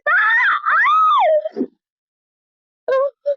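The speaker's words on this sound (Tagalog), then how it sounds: "Sumigaw na agad si ate." A woman's loud, close scream, one long rising and falling cry lasting about a second and a half, followed after a pause by two short yelps.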